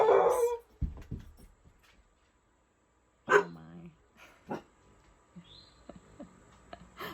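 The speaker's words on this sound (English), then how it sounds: "My older dog is sure awake." An older pet dog barks and whimpers in several separate bursts, close by, with quiet gaps between them and some human voice nearby.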